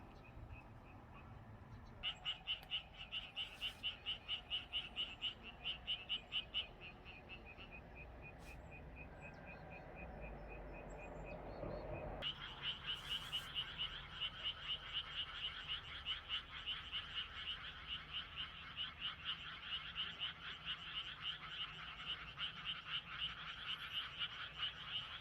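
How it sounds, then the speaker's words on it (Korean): Many frogs croak at night in the summer countryside in Korea, a dense rhythmic chorus of rapid pulsing calls that drops briefly, then swells louder and continues steadily with faint background hum. "지금은 일반 개구리, 우리 개구리들이 울고 있는 거고요."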